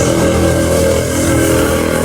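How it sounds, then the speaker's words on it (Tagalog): A loud, close small engine chugs and buzzes steadily, a rattly motorized tricycle running without pause. "pasensya na po sa ingay ng tricycle."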